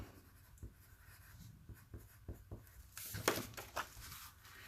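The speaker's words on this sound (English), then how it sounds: "I'm doing it with my pencil because if I want to change it, I can still change it" A pencil writes labels on paper, producing faint, close scratching strokes in short separate taps, then a denser, louder flurry of scribbling toward the end.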